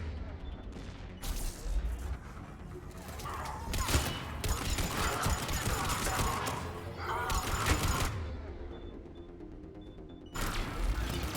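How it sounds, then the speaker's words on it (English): Gunfire in Mass Effect 3 Legendary Edition: loud, dense bursts of shots and crackling impacts come in several waves, separated by brief lulls, with mechanical clatter between them. "I missed every one of those shots."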